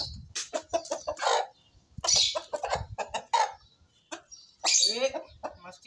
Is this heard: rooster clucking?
yes